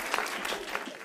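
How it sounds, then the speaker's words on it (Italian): A brief, soft stretch of applause, a steady diffuse patter of many hands clapping at a distance, faint and without talk. "Applaudono anche da dietro la foresta."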